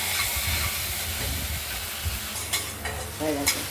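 Steady sizzling of ash gourd slices stuffed with poppy seed paste frying in a kadai, with a few sharp scraping stirs and clinks near the end.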